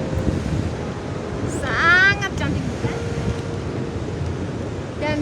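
Waves and wind at Batu Bekung beach make a continuous rushing wash with gusty microphone buffeting, while someone talks briefly over the surf near the middle.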